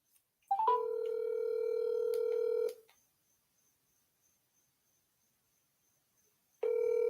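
A telephone handset goes off-hook with a short click, then a steady dial tone sounds for about two seconds and cuts off, followed by silence before the tone returns near the end; no one speaks.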